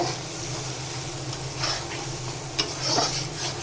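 An onion-ginger spice paste with cumin powder, turmeric, salt and tomato sautés in a pan with a low, even sizzle, while spoon scrapes and small clinks stir through it, close and unaccompanied by voices.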